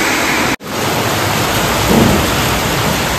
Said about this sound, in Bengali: প্রচন্ড জোরে বৃষ্টি পড়ছে।